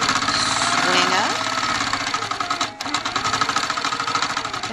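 Sewing machine stitching swirl quilting, a fast rhythmic needle pulse running close and loud, briefly pausing midway before resuming, with a voice speaking over it.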